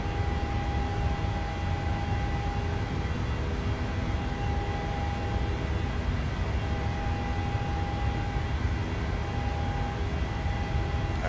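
Steady drone of a PMDG 737-800 airliner's engines inside Microsoft Flight Simulator, a constant even roar with a faint sustained tone running through it, no talking.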